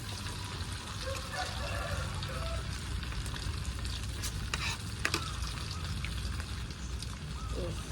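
Steady, close sizzling of tofu frying in a pan, continuous throughout, with occasional stirring clinks and faint voices in the background.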